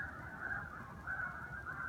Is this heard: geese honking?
yes